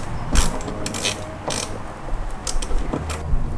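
Wrench working a tight, rusty nut loose on a Corvette C6, giving a run of close ratcheting clicks and metallic creaks in irregular bursts over a steady background hiss.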